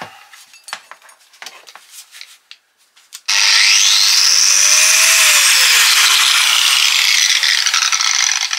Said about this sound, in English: Now we need our angle grinder.